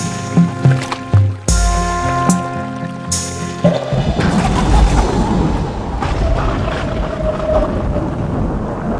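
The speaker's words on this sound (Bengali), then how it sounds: "হঠাৎ নদীতে প্রচন্ড ঝড় ওঠে," A cartoon storm rises on a river and rocks a boat. A few short musical notes come first, then loud, dense rushing wind and water noise, like a downpour with rumbling.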